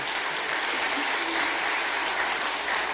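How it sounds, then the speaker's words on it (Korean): Church congregation applauding the choir after a hymn, a steady dense wash of clapping from a full room that holds evenly for the whole stretch. "여러분 박수로 하나님께 영광이고 찬양대 위해서 박수 한번."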